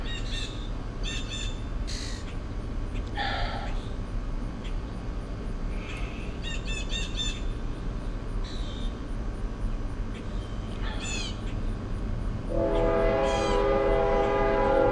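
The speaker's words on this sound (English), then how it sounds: "Still hear the train rattling in the distance, don't hear the horn no more." Outdoors, a steady low rumble of a passing train runs under scattered bird squawks and chirps, then a loud sustained horn blares for the last couple of seconds.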